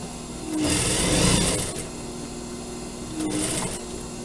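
Close, steady whirring of a sewing machine stitching the curved seam of a surgical scrub cap, with two louder surges as the fabric is fed under the needle.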